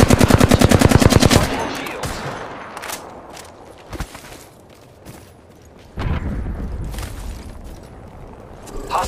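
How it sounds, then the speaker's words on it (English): Gunfire in an Apex Legends arenas match: a rapid burst of automatic fire opens, followed by scattered single shots and impacts, with a heavier blast and rumble later on. "I am taking fire, friends."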